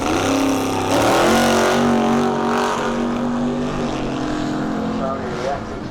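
A small Peugeot drag racing car with a 4.7 engine launches and accelerates hard down the drag strip, a loud continuous rising engine roar that stays close throughout.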